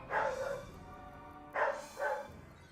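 A dog barks once, pauses, then gives two more quick barks, sitting at middling distance over a low background with no talk.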